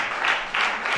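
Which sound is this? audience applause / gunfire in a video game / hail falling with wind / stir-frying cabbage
audience applause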